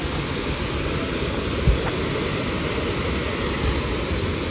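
Water pours steadily out at the Bhimtal Lake dam, a continuous broadband rush that stays even and fairly loud throughout, with no one speaking over it.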